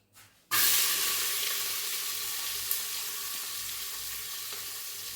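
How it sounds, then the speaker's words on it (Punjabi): Chopped onions hitting hot oil in a pan, an abrupt loud sizzle bursting in after a brief quiet moment and then hissing steadily, close up with no voices. "ਇਧਰ ਆਪਣਾ ਤੇਲ ਵੀ ਗਰਮ ਹੋ ਗਿਆ ਤੇ ਇਹਦੇ ਵਿੱਚ ਆਪਾਂ ਪਾ ਲਾਂਗੇ ਗੰਡੇ"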